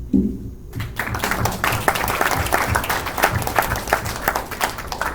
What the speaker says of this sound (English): We thank you and we applaud you.